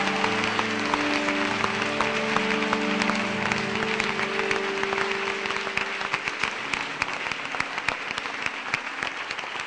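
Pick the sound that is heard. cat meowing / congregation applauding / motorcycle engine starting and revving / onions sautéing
congregation applauding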